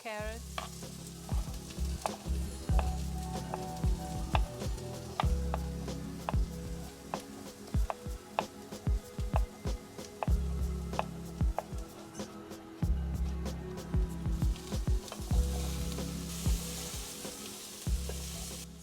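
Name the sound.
onion frying in a pan while cooking rooster bone broth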